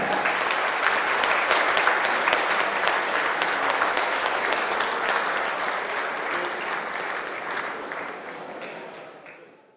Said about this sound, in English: Can we have a big round of applause for that?